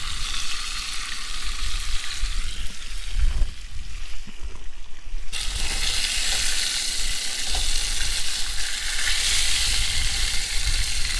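Trout fillet sizzles steadily in a hot pan during an ice fishing trip at a mountain lake, loud and close with a continuous crackling hiss that jumps louder partway through.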